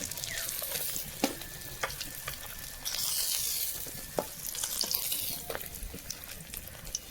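Spices frying in hot oil for a fish curry: a steady, close sizzle and crackle with scattered sharp pops throughout, and no talking.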